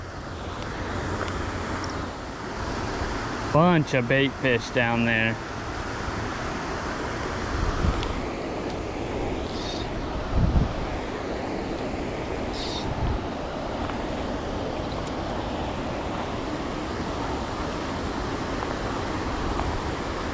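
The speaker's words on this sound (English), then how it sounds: "fishing this slack water a little bit off of this big treatment center waterfall" Water rushes steadily from a large treatment center waterfall into a desert canal. It makes a constant broad roar throughout, with a brief spoken remark partway through.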